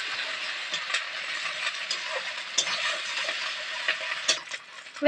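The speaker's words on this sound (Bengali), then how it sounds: "এবার এর মধ্যে আদা বাটা দিয়ে দেবো একটু কাঁচা গন্ধটা যাবে এভাবে নাড়াচাড়া দিলে" Ginger paste being stirred into lightly fried onions in a pan, a steady soft sizzle with scattered scraping strokes of the spoon, close and alone without talk.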